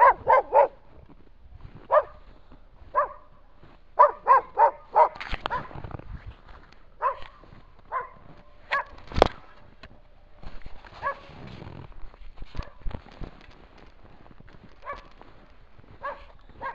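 Dogs bark in a village in the Urals, sharp repeated barks in quick clusters separated by quiet gaps, fairly close, with scattered yips near the end.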